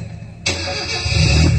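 During a Marathi comedy folk play, a voice imitates a jeep engine, breaking abruptly into a loud, steady rumbling roar that swells slightly toward the end.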